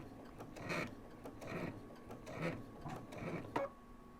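Sewing machine stitching quilt binding at a short 1.6 mm stitch length, inching forward in four short, even bursts of rapid needle clatter, quiet and close, with brief pauses between.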